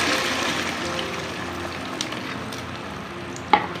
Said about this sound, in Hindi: ऑयल हमारा गर्म हो चुका है। अब इसमें हम एग का बैटर डालेंगे।